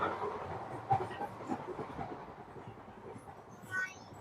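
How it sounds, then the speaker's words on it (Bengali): An old train carriage rattles and shakes as it moves, a faint, steady rumble with light clattering knocks and a brief squeal near the end. "ভাই এই ট্রেনটা অনেক বেশি কাঁপতেছে।"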